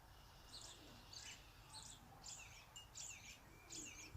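A robin sings faint, distant repeated chirping phrases, about six short bursts in a row over quiet outdoor background noise.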